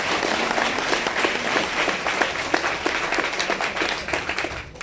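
Sustained round of audience applause at a business event, many hands clapping in a dense, lively patter that fills the room at a steady level with no speech over it.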